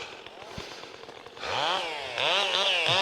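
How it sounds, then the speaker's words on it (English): Several chainsaws work nearby to cut down pine trees in Scottish woodland, their engines revving and whining in rising, overlapping bursts after a quieter opening stretch. "there's 3 or 4 guys up here with chainsaws, all just ripping the stuff down"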